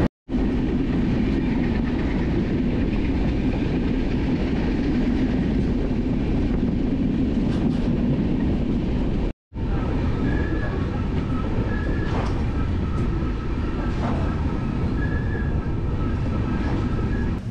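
The Pothigai SF Express runs along rails on the route toward Courtallam, giving a loud, continuous rumble with rhythmic clickety-clack and faint wheel squeal. A brief cut of silence breaks the sound midway, then the steady running resumes.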